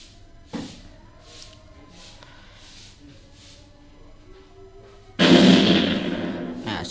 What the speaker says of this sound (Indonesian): ketika rudalnya menyentuh titik 600 maka akan ada suara boom